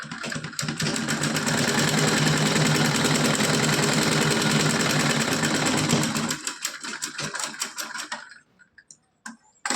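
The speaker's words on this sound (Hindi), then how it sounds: "यहाँ पे मैं डबल सिलाई लगा दूंगी यहाँ पे" A sewing machine runs in one long, fast, rattling burst for about six seconds, sewing a double line of stitching on a small doll's choli, then slows into a few scattered clicks before falling quiet.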